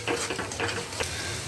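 A ginger, garlic and onion masala fries in oil in a pan, with a soft steady sizzle broken by a few brief scrapes of stirring.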